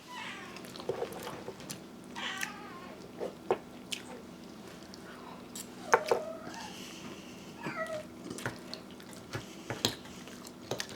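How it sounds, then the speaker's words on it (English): A house cat meows for food during a turkey dinner, several short meows scattered over steady background noise, mixed with chewing, clinks and small dinner-table sounds, no talk. "I think the cat's saying they want some."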